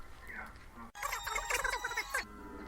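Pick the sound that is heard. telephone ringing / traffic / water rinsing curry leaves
telephone ringing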